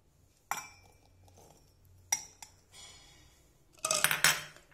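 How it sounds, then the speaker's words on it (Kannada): Boiled sweet corn goes into a mixer jar in a home kitchen, with a few sharp clinks and knocks of the jar and spoon, then a busier burst of clattering at the end, no talk. "ಇದನ್ನು ಮಿಕ್ಸಿಗೆ ಹಾಕೋಣ ನಾವು"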